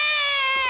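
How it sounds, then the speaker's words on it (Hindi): A single drawn-out meow from a cat, clear and close, sustained and slightly falling in pitch before breaking off at the end. "ये वही मोटी बिल्ली होगी।"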